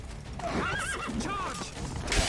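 Roach the horse from The Witcher 3 gives a clear, wavering whinny with soft hoof clops beneath, close and fairly loud over steady game ambience.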